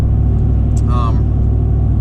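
A truck's exhaust rumbles steadily at idle with a brief rev rising over the low drone, close by.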